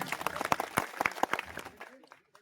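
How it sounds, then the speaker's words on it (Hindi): A crowd at a public gathering gives Bhaskar Mishra a burst of applause, a short spell of loud clapping that quickly thins out and dies away to near silence. "एक बार इनके लिए आप लोग जोरदार ताली बजा दीजिए"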